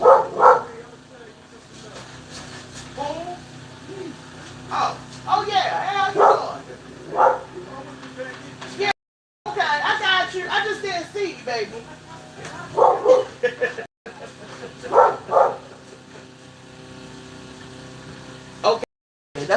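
A neighbor's dog barks and yips in repeated bursts through the scene, fairly close, mixed with people talking over it.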